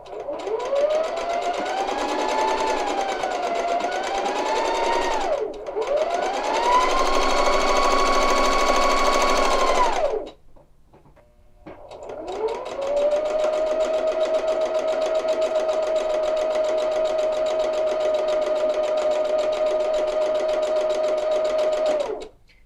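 A sewing machine stitches the last rows of a seam on a tie jacket, finishing with a back stitch. Its steady, loud mechanical whir runs in two long bursts, stops briefly, then runs again alone.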